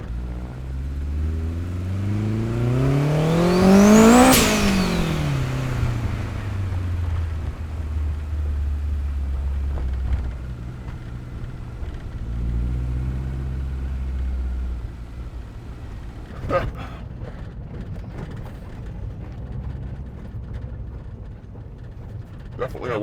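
Turbocharged Honda Civic with a bonnet-exit wastegate, revved hard so the engine note sweeps sharply up and falls back, then settles into a rough idle with a few more short blips, loud and close.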